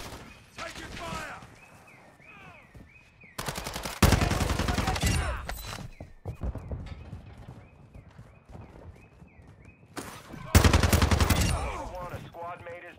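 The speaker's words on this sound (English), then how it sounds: "You are taking effective fire." Call of Duty DMZ gunfire comes in loud, dense bursts of automatic shots separated by quieter gaps filled with game sounds and speech.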